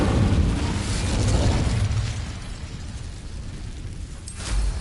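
Incendio fire spell in Hogwarts Legacy bursts with a muffled, rumbling whoosh that fades, followed by a second low thud near the end; no one speaks.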